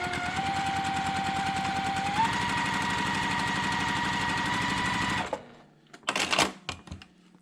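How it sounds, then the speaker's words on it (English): A sewing machine stitches quilt fabric along a quarter-inch seam line, a loud steady mechanical chatter for about five seconds that speeds up slightly partway through, then stops, followed by a few brief handling clatters. "I'm going to go ahead and stitch with my fabric next to that line there."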